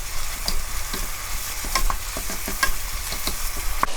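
Garlic, ginger and onion stir-fried in a hot pan, a loud steady sizzle broken by quick scraping tosses of the spatula, close and with no talking.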